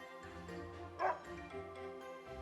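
A small dog in the Another Code Recollection video game gives a single short bark, set over soft, sustained in-game music.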